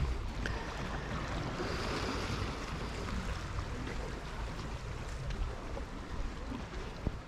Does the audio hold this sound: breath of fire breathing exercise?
no